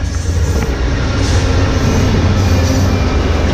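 Amtrak passenger train rolling past close by, a steady loud rumble of wheels on rails with faint squealing and a low, continuous roar throughout, no voices.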